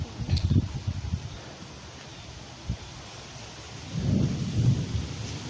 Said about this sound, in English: we're checking on the garden real quick because it's finna storm